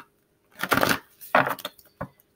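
Tarot cards being shuffled in three short riffling bursts, close and fairly loud, with brief pauses between them.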